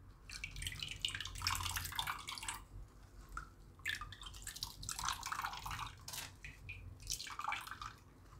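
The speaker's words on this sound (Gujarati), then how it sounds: "તો આ બધું આપણે ગાળી લઈશું" Pomegranate juice strained at home, dripping and trickling in faint, irregular patters through a strainer, fading in and out over several seconds with no talk.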